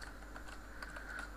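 Computer keyboard typing while code is written: a quick run of light, close key clicks at an uneven rhythm, with no talk over it.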